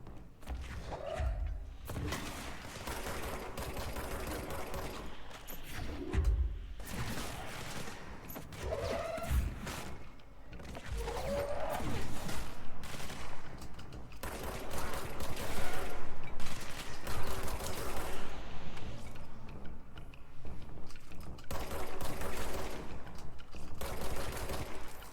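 Tracking missiles and explosives boom in a Control firefight, with heavy thuds, blasts and crackling bursts coming in waves over a continuous low rumble of combat.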